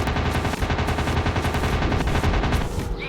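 Rapid machine gun fire from a fighter plane in the World War II dogfight video game Warplanes: WW2 Dogfight, a loud, continuous rattling burst that runs the whole time without a break.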